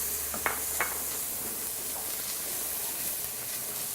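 Onion and celery sweat gently in a pan with a quiet, steady sizzle, broken by a couple of soft stirring scrapes near the start.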